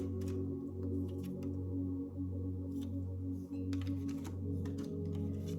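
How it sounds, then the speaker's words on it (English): Soft papery flicks and clicks of oracle cards being shuffled, irregular and close, over a low steady hum. "Let's give them a better shuffle."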